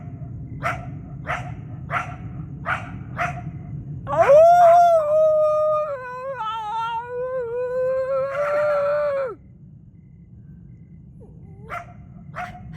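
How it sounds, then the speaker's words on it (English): A coyote in West Los Angeles gives a string of sharp, evenly spaced barks, then breaks into a long, wavering yelp-howl before falling quiet. It sounds fairly close and loud over a steady low background hum. "That's the coyote barking at me."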